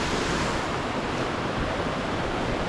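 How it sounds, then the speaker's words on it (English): A steady, broad roar of rushing water from a waterfall in Costa Rica fills the air, constant and loud with no pauses. "Here it is, the waterfall."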